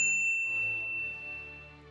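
A bright notification bell strikes once near the start and rings out for a moment, leaving a clear tone that fades over about two seconds, with no other sound around it.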